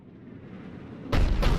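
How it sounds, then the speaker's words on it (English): A Cerberus cannon fires in Mass Effect 3, a sudden loud booming blast that cuts in after a low rumbling lead-up, followed by a second heavy report. "Looks like Cerberus got that cannon operational, Commander."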